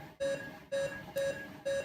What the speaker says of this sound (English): let's give you some heart monitoring beeps right here